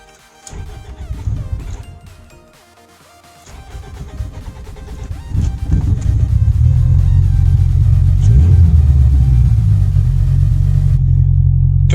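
A car engine cranks in bursts and then catches after new fuel injectors are fitted, settling into a loud, steady idle rumble close to the microphone.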